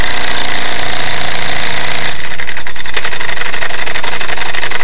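Small-scale live steam engine running, a rapid rhythmic chuffing and mechanical clatter that shifts to a faster, lighter beat partway through, loud and close.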